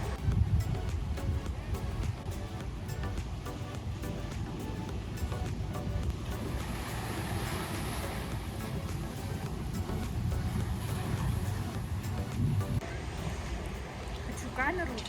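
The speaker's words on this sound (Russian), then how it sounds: "Волны, смотрите, какие волны." Ocean waves washing in on a beach in Bali, a steady low roar of surf with wind noise on the microphone, while people talk over it now and then.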